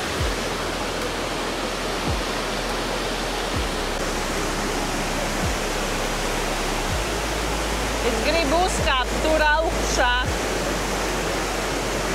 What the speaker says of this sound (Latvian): Šis ir ļoti plašs un ūdens arī ļoti daudz plūst